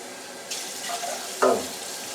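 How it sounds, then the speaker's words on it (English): Water from a kitchen sink tap runs in short bursts into a measuring cup, two brief splashing gushes a moment apart, fairly close and moderate in level over a quiet room. "I'm gonna go grab the water over here in the New 80s Revolution sink."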